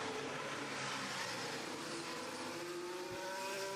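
Formula 1 cars during 2023 Dutch Grand Prix free practice, a dense, continuous high-pitched engine roar with a rising whine running steadily throughout, loud and without any voices.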